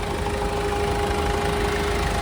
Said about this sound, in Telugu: ఇంజన్ మాత్రం ఎక్సలెంట్ ఉంది చాలా సైలెంట్ ఉంది